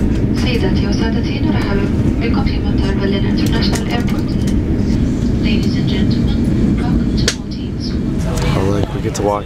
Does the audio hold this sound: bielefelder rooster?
no